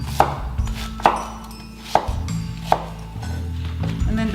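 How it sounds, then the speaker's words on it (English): Scallions are chopped with a knife on a cutting board, four sharp, fairly evenly spaced thunks standing out close and clear over a quiet kitchen background. "And this is how I'm gonna chop the onions."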